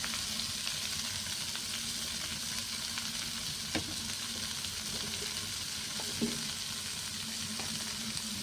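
Washed greens frying with tomato in a pan over a clay stove, a steady close sizzle with two brief sharp clicks of a utensil, no talking.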